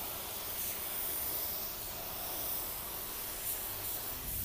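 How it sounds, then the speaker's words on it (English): Continuous broadband hiss of a budget paint spray gun spraying sealer, steady and close, with slight swells in intensity and no talking. "Spraying really nice so far,"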